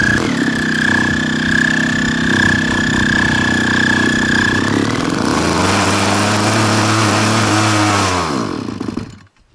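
A 50cc gas engine on a Hobbistar MK III model runs loud and steady close by, its pitch dropping as it slows and then cutting out at the very end.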